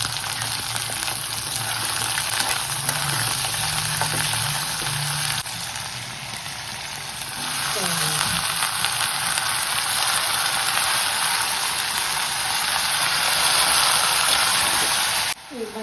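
Spinach dal sizzles loudly and steadily in a hot pan, a close, continuous hissing fry with brief stirring bumps partway through.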